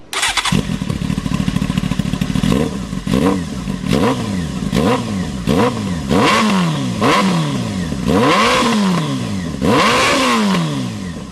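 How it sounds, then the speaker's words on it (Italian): A Honda Hornet 600 motorcycle with a loud aftermarket exhaust and no dB killer starts, then revs hard again and again, each blip rising and falling in pitch. It is very loud and close, with no one speaking. "lo scarico, che fa un sound davvero pazzesco, di quelli insomma che veramente si fanno notare"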